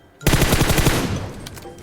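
Rapid burst of automatic gunfire from the video game PUBG Mobile, loud and close, a tight rhythmic string of shots that starts abruptly and trails off into a fading echo.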